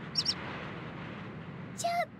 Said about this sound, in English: Chirp, chirp.